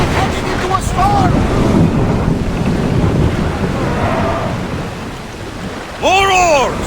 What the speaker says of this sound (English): Heading into a storm!